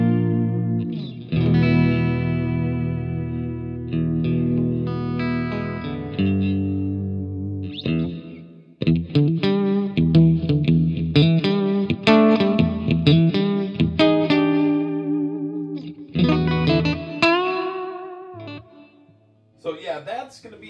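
Electric guitar from an Ibanez RG450DX through a Marshall 6100 amp and a Flamma FS02 reverb pedal set to high feedback, playing sustained chords and picked runs that swell into a big, lingering hall-like wash.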